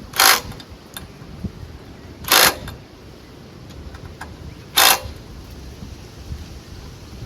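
A ratchet tightening a bolt on a mower deck being fitted to a Craftsman LT1000 lawn tractor: three short, sharp clicks spaced a couple of seconds apart over a quiet background.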